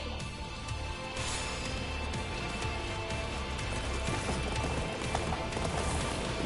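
Steady hoof clip-clops of a horse in the video game Attack on Titan 2 over a dense, busy background, continuous and fairly even in rhythm throughout.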